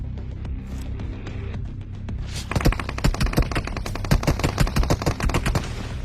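Gunfire in the mobile shooter Free Fire starts with a few scattered shots, then breaks into a loud, rapid automatic burst of sharp, closely spaced cracks that runs to the end.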